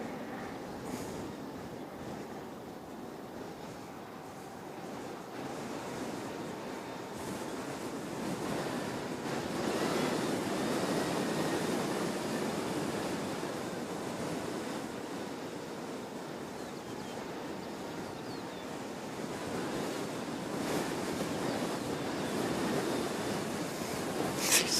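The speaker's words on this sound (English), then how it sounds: "gusts are getting mental." Strong wind gusts at Christchurch Airport, a continuous broadband rushing roar buffeting the microphone, swelling and easing over about twenty-five seconds, with no talking.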